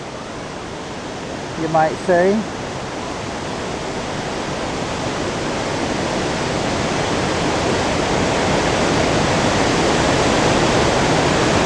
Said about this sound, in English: you can see across here where the water is coming down the most